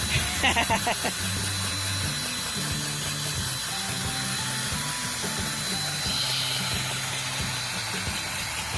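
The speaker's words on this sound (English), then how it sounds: "so that he could use this drill as a stirrer." A power drill used as a paint stirrer in a bucket whirs steadily with a mechanical churning hum, running continuously close by with a few brief knocks at the start.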